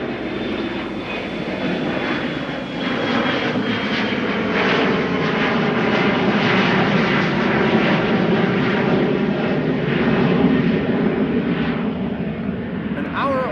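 An airplane departs Schiphol airport in Amsterdam, a loud, steady engine roar that holds throughout with a broad rumbling wash of noise.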